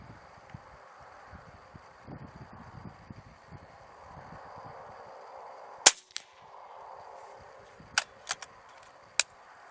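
Several sharp, isolated rifle shots crack at an outdoor shooting range, one loud report followed later by three quicker distant-sounding ones, over quiet ambient noise with faint rustling.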